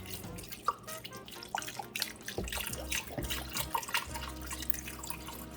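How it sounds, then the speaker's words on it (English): Chicken broth poured from a half-empty container into a soup pot, a splashing, dripping liquid stream running steadily for several seconds, close and fairly loud. "I'm going to pour in my chicken broth"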